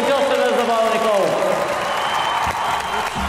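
Applause from an audience at a ceremony where the TV show Господарите presents its Бяла лястовица award to volleyball legend Vlado Nikolov. The clapping forms a dense, steady wash, with a voice or music fading out early on.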